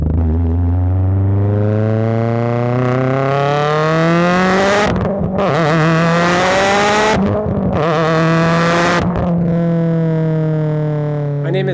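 A 2005 Mitsubishi Lancer Evo 8 engine climbs through rising revs in loud, sustained pulls, with sharp shift breaks between surges and a settled idle-like drone at the end.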